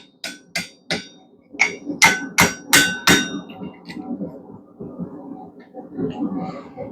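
A hammer strikes a stuck blacksmith's chisel several times in a row to knock it loose, sharp, close metal knocks with short pauses between them, followed by quieter shuffling and handling noises.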